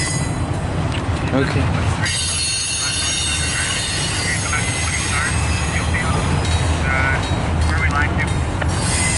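A CN freight train passes close with a GE AC4400 and Gevo locomotives in mid and rear DPU positions, loud continuous wheel rumble and clatter with recurring squeals of wheels on rail, while a person speaks briefly.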